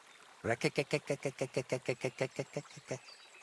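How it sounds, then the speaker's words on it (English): A rapid series of about fifteen rhythmic toad croaks in the video game Kingdom Come: Deliverance 2, evenly spaced and fairly loud, with a faint background hiss. "they croak quite loudly"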